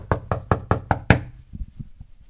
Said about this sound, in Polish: Idę szukam, do drzwi pukam